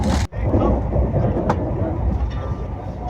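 Inside a moving passenger train, a loud, steady rumble of wheels and carriage noise fills the space after a short sharp break at the start.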